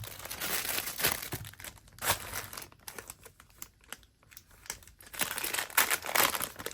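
Crinkly plastic packaging of a SHEIN chiffon haul being opened, close bursts of crinkling and rustling with quieter pauses between handling, no voices.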